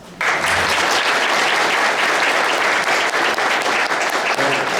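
Sustained applause from a ceremony audience at an annual union delegates' convention, a dense, steady clapping that starts abruptly and carries on loud and even throughout.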